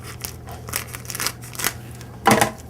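Several crisp snips and crinkling cuts through plastic packaging holding glazed food, irregular and close up, ending in a louder rustling slice.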